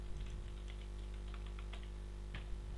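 Keys clatter on a computer keyboard as text is typed, in quick irregular bursts of soft clicks over a low steady hum, faint and close, with no talking.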